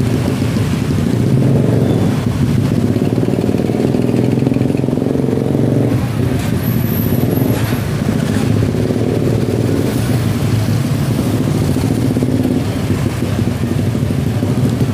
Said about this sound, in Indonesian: Jalan macet total di sini.